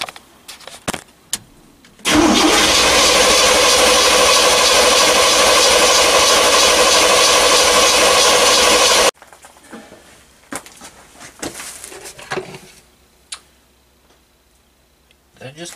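A 1973 GMC truck that sat for 13 years cranks loudly and steadily for about seven seconds with a fuel pump circuit in focus, then stops without catching, followed by scattered clicks and handling noises.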